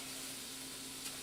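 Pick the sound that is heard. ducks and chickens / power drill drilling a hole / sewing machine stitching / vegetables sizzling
vegetables sizzling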